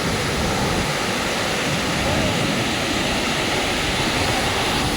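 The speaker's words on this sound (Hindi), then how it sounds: "आवाज़ सुनो आप पानी की।" A fast, powerful mountain river on a windy trek route to Madmaheshwar, with a loud, steady broadband roar of rushing water that fills the whole stretch and does not let up.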